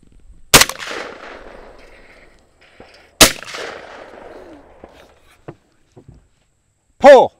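Two sharp, loud shotgun blasts from a .410 TriStar Viper G2 ring out at an outdoor sporting clays course, each trailing off in an echo, with quiet ambience and faint scuffs between them.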